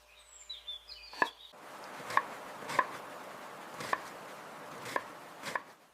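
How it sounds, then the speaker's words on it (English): A knife chops sausages into bite-sized pieces on a board while making sausage fried rice, giving about six sharp, evenly spaced knocks close by, with a faint chirping high sound before the first cut. "Cut them into bite-sized pieces."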